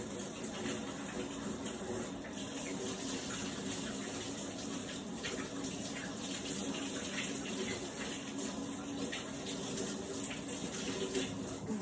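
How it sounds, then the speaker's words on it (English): A kitchen tap runs steadily while hands are washed, a continuous soft hiss and splash of water holding at an even level throughout without speech. "Give me a second while I wash my hands."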